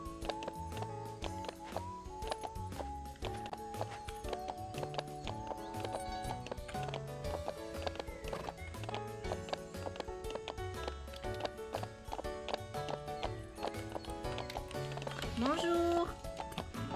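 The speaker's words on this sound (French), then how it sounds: "Et le bruit des sabots sur le pavé." Horse hooves clip-clop steadily on cobblestone pavement in a video game, with a clear repeating rhythm heard beneath game music and background voices.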